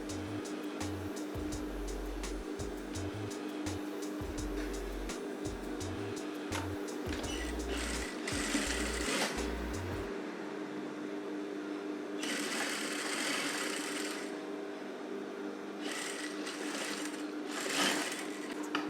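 A sewing machine stitching a woman's dress runs in a steady rapid mechanical whir for about ten seconds, stopping and starting in short bursts, then falls quiet apart from faint handling rustles and brief hissy noises.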